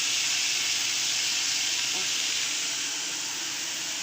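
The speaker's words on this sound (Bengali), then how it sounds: "আদা বাটা আর কাঁচা লঙ্কা বাটা দিয়ে দিচ্ছি তেলের মধ্যে" Ginger and green chilli paste sizzling in hot oil: a loud, steady, broadband hiss and crackle that holds evenly for the whole stretch, close by, with no talk.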